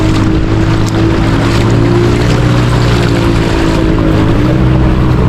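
A motorboat engine drones steadily and loudly close by as it crosses floodwater after a typhoon, its low hum holding throughout with wind noise on top.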